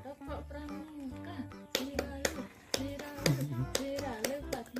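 A child's hands clap along to a children's song on a home terrace in the late afternoon, a series of sharp, close claps falling in rhythm under a singing voice.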